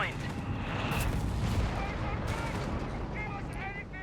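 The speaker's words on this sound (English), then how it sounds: "The arrival of the walking Stuka." A walking Stuka rocket artillery barrage in the WWII strategy game Company of Heroes 3 sets off loud, rumbling explosions and booms that roll on without a break, with a commentator's voice heard in places.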